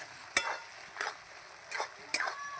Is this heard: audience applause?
no